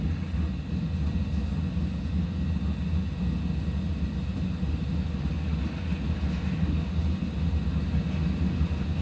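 An airliner's takeoff roll in a flight simulator produces a constant low engine rumble and hum, steady and even throughout with no talk over it.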